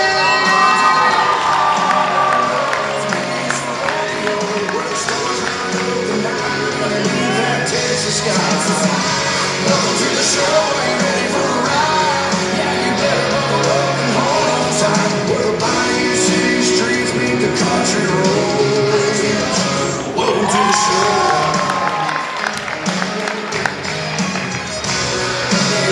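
A hometown rodeo crowd at a gymnastics show cheers, shouts and yells loudly and continuously, with children's voices mixed in.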